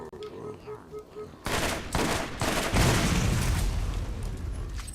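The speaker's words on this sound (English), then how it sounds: "That was the weirdest explosion ever." Gunfire and an explosion in the video game Borderlands: quiet game tones give way to a loud blast, then dense rapid shooting and rumbling booms filling the rest of the moment.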